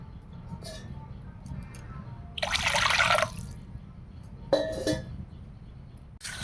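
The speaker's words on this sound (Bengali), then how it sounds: "এটা আমচুরটা ভিজিয়ে রেখেছিলাম ধুয়ে সেই জলটা দিয়ে দিলাম আর একটু জল দেবো" Water is poured into a pot of sour fish curry made with soaked dried mango and gram-flour fritters. Two short splashing pours stand out against a quiet kitchen background with faint clinks.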